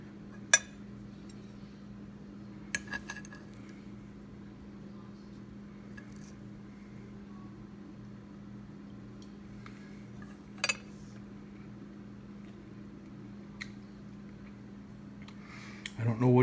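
Solar-oven-cooked chicken thighs are lifted out of a pot, with a few sharp metallic clinks and clanks of utensil against pot spread sparsely over a steady low hum.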